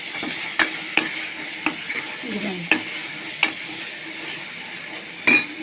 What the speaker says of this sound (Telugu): మెంతికూర ఉడికింది కదా, బాగా వేగింది కదా నూనెలో